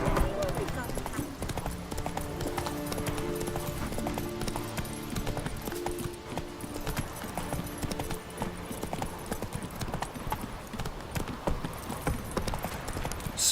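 Roach, a horse in the video game The Witcher 3, galloping with quick rhythmic hoofbeats under a game music score, with a voice speaking over the hooves.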